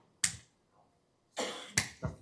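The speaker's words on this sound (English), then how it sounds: "That's a clap." A few sharp hand claps ring out in a quiet room: one single clap, a pause, then a quick cluster of three close together.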